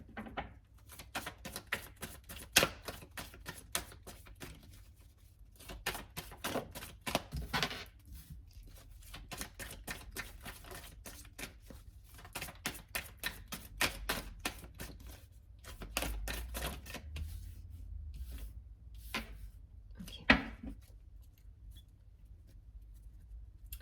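Tarot cards being shuffled and drawn by hand, a long stretch of soft rapid flicks and riffles in scattered bursts, close and fairly quiet with brief pauses between.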